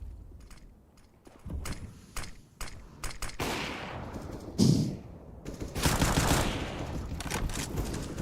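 Burst-like fake gunfire from a decoy grenade in a Counter-Strike esports match, scattered crackling shots and rattles mixed with other game effects, moderately loud with no talk.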